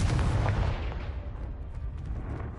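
Confringo blasting spell from Hogwarts Legacy going off as a single deep booming explosion, loud and close at the start, then a rumbling tail that fades over the next couple of seconds.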